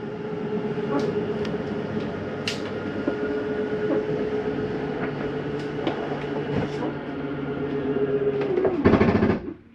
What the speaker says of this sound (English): That is just the slide mechanism telling itself not to go in any further